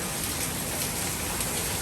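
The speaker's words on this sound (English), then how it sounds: "We are getting a torrential downpour" A torrential downpour of rain produces a dense, steady roar of drops hitting surfaces, loud and even throughout, with no voices.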